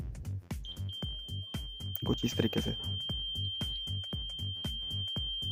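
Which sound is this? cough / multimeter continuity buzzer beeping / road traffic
multimeter continuity buzzer beeping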